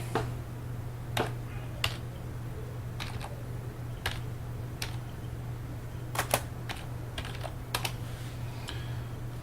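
Rapid bursts of keyboard typing during a session of the space game EVE Online, clicking in irregular clusters of keystrokes over a steady low hum, close and moderately loud with no talking.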